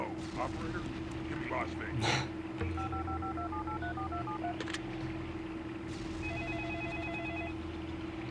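Telephone keypad tones from a phone booth in the video game Serious Sam 2, two short runs of dialing beeps over a steady background hum, with a voice talking earlier.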